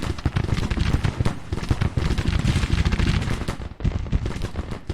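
Dense Civil War battle gunfire in Grand Tactician: The Civil War, rapid overlapping musket volleys and booming artillery filling the whole stretch, loud and continuous with a brief dip near the end.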